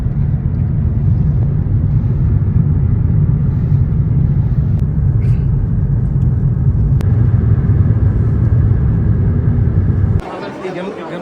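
A car driving on a road in Finland, heard from inside the cabin as a steady, loud low-frequency rumble of engine and road noise with no break, ending abruptly in a brief quieter passage.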